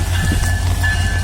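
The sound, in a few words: train arriving at Santahar railway station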